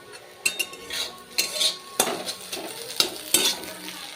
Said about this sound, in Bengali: ডিমটা ভুজিয়া বানিয়ে নিচ্ছি